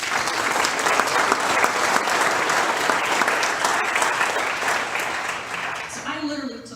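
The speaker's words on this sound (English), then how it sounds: "So that right there deserves a round of applause." Full, dense applause from a banquet crowd at a county chamber of commerce membership dinner, sustained and loud before tapering off as a voice begins speaking near the end.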